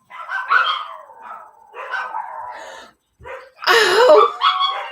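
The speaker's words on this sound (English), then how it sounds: "See, the dogs are upset too." Several dogs bark and yip in short, agitated bursts indoors, close and moderately loud, with a brief pause before a louder flurry of overlapping barks.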